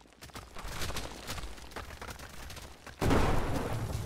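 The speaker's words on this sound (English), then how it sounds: "Oh, it exploded" A tank driven into a pit blows up in a video game, a sudden loud booming blast that breaks over a rumbling, crackling backdrop of gunfire-like noise, followed by sustained roaring fire and debris noise, with no talk.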